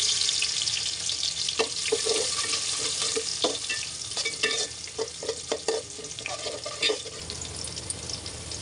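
Whole cardamom, cinnamon, black pepper and bay leaves frying in oil and ghee for chicken khichuri, a steady close sizzle with scraping stirring strokes and clinks toward the end, no talking.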